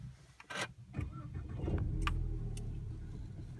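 A 2016 Ford Mustang is started from inside the cabin: a few clicks and key sounds, a short cranking burst, then the engine catches and settles into a steady, fairly loud idle.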